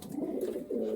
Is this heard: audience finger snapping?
no